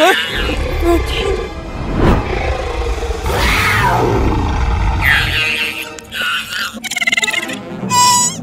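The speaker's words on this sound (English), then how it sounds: "Hear its roar." Loud T-Rex roars from a Jurassic Park film, sweeping rising-and-falling bellows layered over rumbling low-end chase noise and mechanical clatter, with brief shouted voices near the end.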